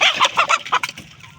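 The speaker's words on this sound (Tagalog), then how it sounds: "Yun ang ating mga manok." Native chickens in the Philippines cluck loudly and continuously at close range in a busy, overlapping run of short calls.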